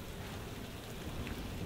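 Heavy downpour with thunderstorm ambience in the Parkitect video game, a dense, continuous roar of rain with low rumbling underneath, loud and steady with no voices.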